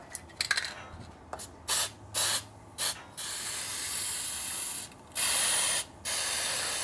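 CRC gasket stripper hisses from an aerosol can in a series of short and longer spray bursts, loud and close, during water pump work on a 1985 Ferrari Mondial QV, with a few clicks before the first spray.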